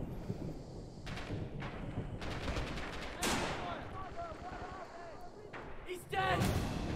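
Rapid gunfire in a WW2 first-person shooter, dense bursts of automatic shots and sharp cracks throughout, some close and loud, with brief voices in the game mix.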